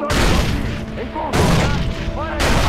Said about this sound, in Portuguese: Vamos tacar uma granada pra lá, ó.